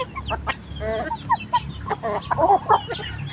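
Chickens clucking close by in short, repeated bursts, with several birds calling over one another in a busy, uneven rhythm.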